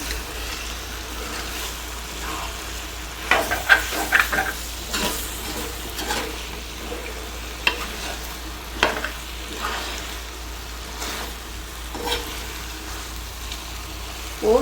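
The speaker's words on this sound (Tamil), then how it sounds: "இப்போ நம்ம சிக்கனை இது கலந்து விட்டுக்கலாம்." Chintamani chicken frying with pepper powder in a pan, a steady close sizzle under repeated stirring and scraping strokes, with no voices.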